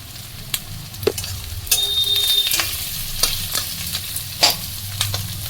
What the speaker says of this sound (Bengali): পেঁয়াজটা একটু ভাজা ভাজা হলে তার মধ্যে দিয়ে দিচ্ছি নুন